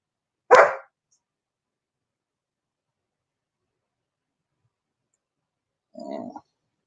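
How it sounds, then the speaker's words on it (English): Two separate dog barks with a long silence between them: one sharp bark early, then a lower, shorter bark from a second dog several seconds later, outdoors, the first dog a hound. "There's my dogs barking, both of them."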